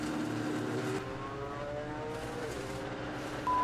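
A Ford GT race car engine held at higher revs during a race, a steady close drone with a raised, slowly rising engine pitch and no talk over it.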